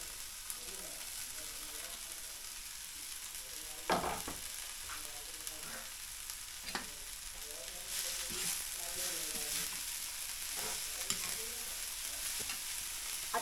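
Chopped wild vegetable hitting a hot pan, then steady frying sizzle with several sharp scraping stirs, close and fairly loud, the hiss rising a little in the later part.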